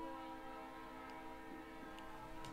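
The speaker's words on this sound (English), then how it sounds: "you hear the faint, very low sound of a train" A faint, distant train rumbles low with sustained horn-like tones drifting over it, quiet and unbroken, with nobody speaking.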